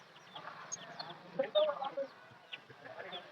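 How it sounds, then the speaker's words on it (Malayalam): Small chicks and fowl at a Chennai pet market cluck and peep in quick, soft bursts, fairly close, with faint market background noise. "ഇതല്ലേ കോഴിക്കുഞ്ഞ്."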